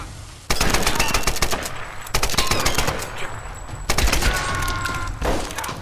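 Sustained machine gun fire in the video game Tomb Raider: three long rattling bursts, loud and close, each cutting in sharply and running almost continuously with dense rapid shots.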